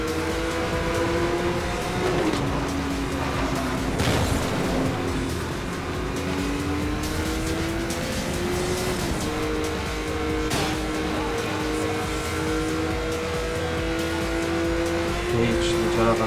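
Car engine and tires racing in the video game Need for Speed: Most Wanted, a sustained engine drone shifting pitch through gear changes, with occasional tire and impact noises and a voice talking over it.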